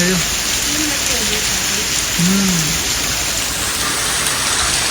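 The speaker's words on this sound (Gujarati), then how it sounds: "ફૂલ વરસાદ પડે ભાઈ ફૂલ" Heavy rain pours down in a loud, steady roar, with a faint voice briefly audible beneath the downpour.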